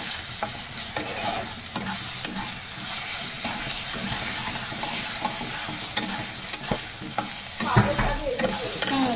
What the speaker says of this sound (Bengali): আমটাকে ভাজা ভাজা একটু করে নিয়ে ডালটা ঢেলে দেবো।